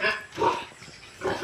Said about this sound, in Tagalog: Lalaki po ng baboy.